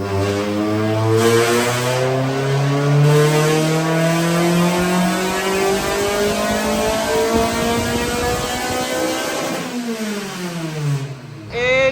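A Suzuki Cultus fitted with a K24 engine revs hard on a dyno, the engine climbing steadily in pitch for several seconds, loud and close, then dropping off abruptly before briefly picking up again.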